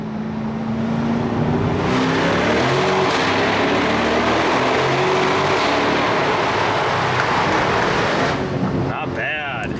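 Corvette convertible with a 6.2-liter V8 driving through a short tunnel on Malibu Canyon Road in California: a loud, steady engine drone with some rising pitch, heavy wind rush and booming echo throughout.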